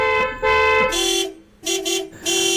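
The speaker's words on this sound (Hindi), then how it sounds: "तभी पीछे से जोर से हॉर्न की आवाज आई" A vehicle horn honks loudly from behind in several sharp blasts, a short toot, a longer blare, then more honks with brief gaps between.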